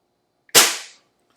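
A single sharp shot from an Umarex Trevox air pistol on a 10-meter range: one loud, close crack that decays quickly into silence.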